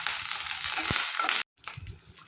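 Mustard seeds, cut dried red chilli and curry leaves sizzle in hot coconut oil in a pan. A bright, close crackling fizz holds steady, stops for a split second and then resumes.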